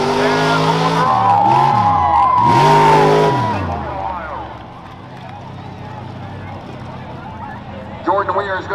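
A rough-class racing truck at the Hartford Fair revs hard and then fades into the distance, its engine running under a race announcer's fast commentary.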